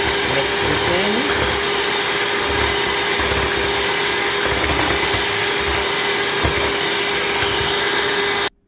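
An electric mixer whirs steadily through Jamaican Christmas cake batter with a loud, continuous motor drone and a faint whine, then stops abruptly at the very end.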